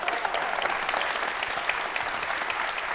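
Steady audience clapping at a Bronx memorial lecture, a dense, even wash of applause filling the whole moment with no pauses.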